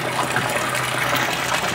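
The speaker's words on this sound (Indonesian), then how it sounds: "Kita masukkan air ya." Water pours steadily into a newly built koi pond, a continuous close gushing rush with no pauses and no one speaking.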